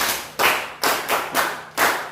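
A classroom of students clapping for a classmate in unison, five loud rhythmic claps spaced about a third of a second apart, close and without talk.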